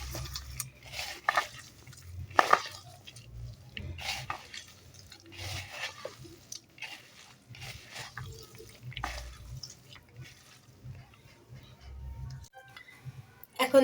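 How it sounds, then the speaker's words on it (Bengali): Chicken momo filling being mixed with green chili, ginger-garlic paste and salt, giving soft, wet squelching and stirring sounds at close range over a low steady background hum. "এখন এগুলাকে ভালো করে মিশিয়ে নেব।"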